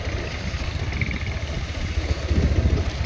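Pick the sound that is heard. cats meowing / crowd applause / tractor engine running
tractor engine running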